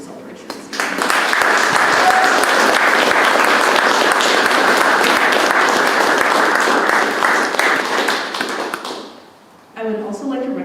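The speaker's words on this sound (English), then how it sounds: "Please join me in applauding all Two Rivers staff for their efforts to prepare us for this celebration." Sustained applause from a large audience at a high school graduation ceremony honoring school staff, dense steady clapping lasting about eight seconds before fading, followed by a voice starting to speak.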